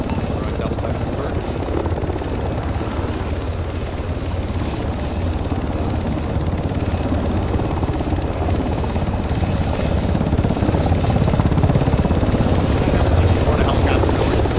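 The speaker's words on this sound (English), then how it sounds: "additional Huey lifted off outbound south" A Huey helicopter flies during a field training exercise. Its loud, steady rotor and engine roar runs unbroken throughout and swells slightly toward the end, with radio chatter and voices underneath.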